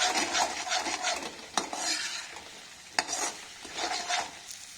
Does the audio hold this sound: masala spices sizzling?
yes